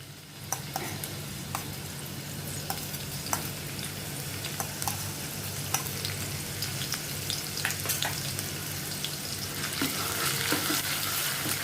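Chopped green chili and finely cut onion sauté with cumin seeds in a pan, a constant bubbling sizzle punctuated by sparse, light taps and scrapes of a spoon stirring, growing slightly louder at the end.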